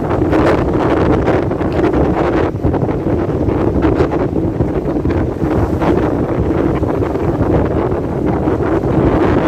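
Strong wind roars steadily into the microphone on the seashore at Infanta, Quezon, with crashing surf from big wind-driven waves and moving water rumbling underneath, loud and unbroken throughout.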